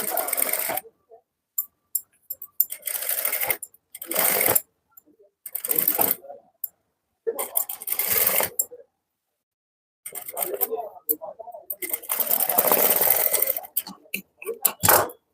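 A sewing machine stitches the hem of a cutwork blouse in repeated close, loud whirring runs of one to two seconds each, separated by brief silences.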